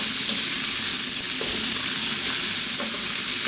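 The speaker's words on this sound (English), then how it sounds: "So those onions are just taken in the pan there." Onions sizzle steadily in a hot frying pan over high heat, a continuous loud crackling hiss with faint stirring scrapes and no talking.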